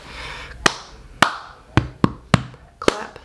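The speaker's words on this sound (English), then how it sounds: "Clap, clap, ti-ti-ta, clap, move the cup, clap, grab, up, down, up," Hands clap and a cup strikes a surface in a cup rhythm game: about six crisp, close percussive hits in a quick, uneven pattern, with no voices.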